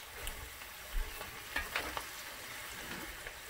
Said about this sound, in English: add our potatoes. And you want to gently coat them with the oils and the onions and the garlic and saute for about four minutes